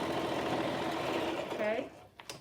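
A sewing machine runs in a steady continuous whir while stitching a fabric face mask with antimicrobial interfacing, then stops abruptly near the end, leaving a few small handling sounds.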